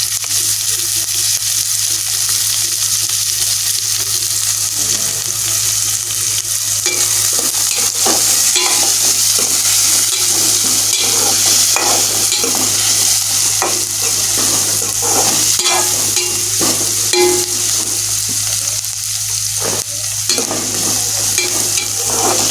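Onion and chilli fry in a pan with a loud, continuous sizzle, joined by frequent stirring scrapes and clinks of a spatula against the pan. The cooking sounds stay close and run steadily without a break.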